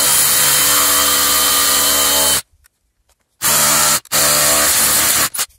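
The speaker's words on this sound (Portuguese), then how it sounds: "Vou fazer mais a perfuração aqui, afundar mais a perfuração até chegar no ponto correto." A DeWalt DCH133 cordless 20V rotary hammer drills an anchor hole into rock: loud, close hammering bursts, first a long run of over two seconds, then a full stop, then two shorter bursts split by a brief pause.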